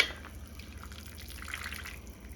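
Liquid drains from a torn-down race car engine in a faint, steady trickle with scattered drips, quiet and continuous.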